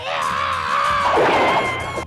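Tom the cat screaming in a Tom and Jerry cartoon when Jerry pinches his nose, a loud sustained wailing scream with a warbling pitch that breaks into a rough crash-like burst.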